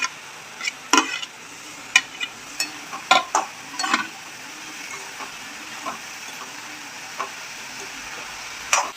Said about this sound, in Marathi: एक टोमॅटो बारीक चिरलेला तो टाकून देऊ